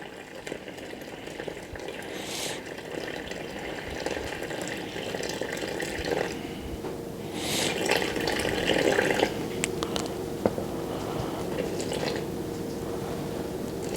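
Water, 780 grams weighed on a kitchen scale, is poured into a bowl of flour for artisan bread, giving a steady splashing trickle with occasional bumps and clinks over fourteen seconds, close by and moderately loud.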